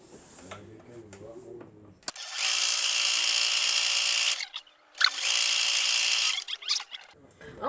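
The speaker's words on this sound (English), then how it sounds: "Alright, let's see what we can do about sewing it down now." A sewing machine stitches down a seat belt holder in two long, steady mechanical runs separated by a short pause, with quiet talking and handling noises before and after.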